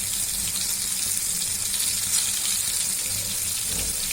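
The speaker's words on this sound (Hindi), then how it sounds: "हमारा बैंगन भी फ्राई हो गया है।" Brinjal (eggplant) slices frying in hot oil in a pan give a steady, bright sizzling hiss that holds evenly from start to finish, close-up and without talk.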